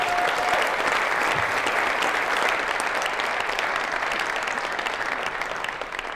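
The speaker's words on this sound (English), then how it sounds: "Give a round of applause for Slovakia" Steady applause from the audience at a junior women's air pistol European Championship final in 2017, dense and sustained throughout, tapering slightly at the end with no talk over it.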